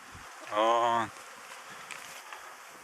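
Honey bees in flight at an apiary with nucleus hives, one bee buzzing loudly close by for about half a second before fading into faint background hum and scattered buzzing.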